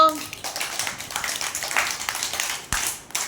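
A group of children clap their hands together during a fruit-name game for kids, a dense run of quick, uneven claps filling the space after a brief spoken line.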